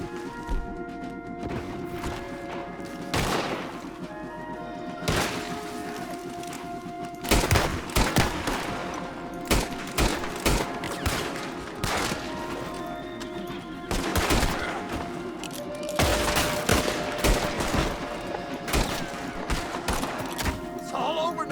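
Gunfire in Red Dead Redemption 2 rings out in repeated sharp bursts and single shots across a long firefight, with a sustained musical drone beneath and occasional horse sounds and game voices in between.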